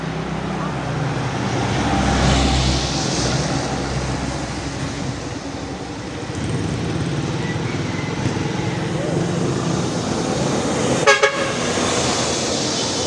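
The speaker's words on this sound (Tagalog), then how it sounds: "Lakas ng busina nyo na." Loud street traffic with car horns honking in several bursts, one sharp toot standing out near the end, while people talk nearby.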